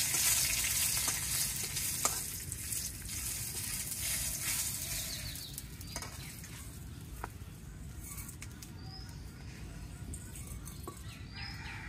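Bay leaves and panch phoron fry in hot oil with a constant loud sizzle, faint utensil scrapes and a few light clicks rising over the crackle.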